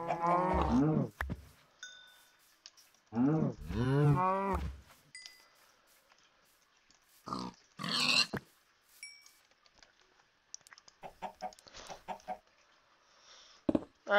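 Cows in the video game Minecraft give two long, drawn-out moos close by, followed by scattered short hit and click effects from the game.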